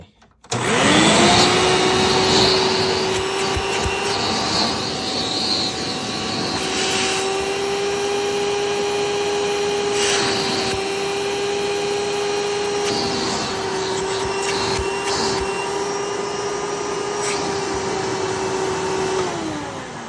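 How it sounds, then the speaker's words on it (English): A 2000 Hoover Preferred vacuum cleaner with its hose attached for a suction test runs loud and steady for about twenty seconds, a sustained motor whine after a quick start-up, with occasional bumps and a wind-down at the end. "The 2000 model Hoover Preferred."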